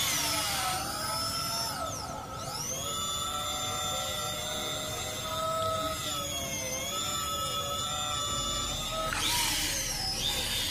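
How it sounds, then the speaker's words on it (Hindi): A home-use electric drill boring a second hole, a steady high whine held for several seconds with pitch dips as the bit bites, then it spins up again near the end. "और दूसरा बार हम लोग छेद करते हैं दूसरा होल के"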